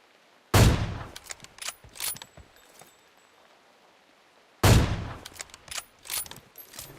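Two sharp, loud gunshot blasts about four seconds apart in a battle royale shooter, each followed by a tail of mechanical clicks and rattles as the weapon is handled; no voices.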